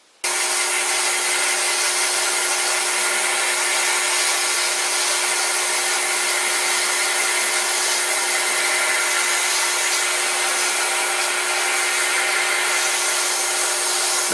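Metal lathe cutting a steel backing plate for a small Bison chuck, a steady, loud, unbroken machining whine that starts abruptly and holds alone for the whole stretch.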